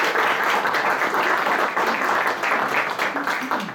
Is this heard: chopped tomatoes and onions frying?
no